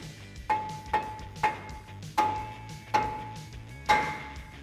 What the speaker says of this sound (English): you can grab a mallet and carefully tap on the outside of the rotor